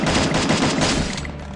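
Loud, close rapid automatic gunfire bursts rattle continuously for under two seconds in the Free Fire battle-royale video game.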